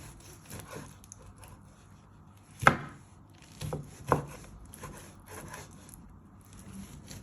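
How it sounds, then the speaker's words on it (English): Quiet knife cuts on a cutting board slicing chicken into thin strips, a few sharp chops spaced irregularly with soft slicing between them, close up. "So we're just slicing our chicken into thin strips."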